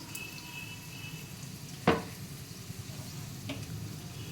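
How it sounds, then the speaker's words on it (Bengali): Sliced bitter gourd sizzles in a frying pan with a faint, steady crackle. One sharp clank of utensil on pan rings out near the middle, followed by a softer tap. "এই দেখো উচ্ছে, ওইটা ভাজা করব।"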